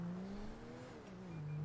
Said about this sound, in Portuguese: Vou colocar esse carro aqui.